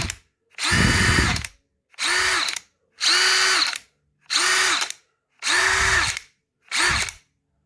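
A Dewalt 20V Max brushless cordless drill spins up in six separate bursts, each about a second long with short gaps between them. The whine is loud and close, and nobody speaks.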